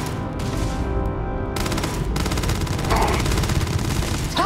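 Rapid automatic gunfire in the space game Starfield, dense bursts running steadily through the whole stretch at fairly loud level, with no voices over it.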